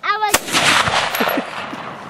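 Single sharp handgun shot fired outdoors during target shooting in the American West, a loud close crack near the start followed by a lingering rumble and echo.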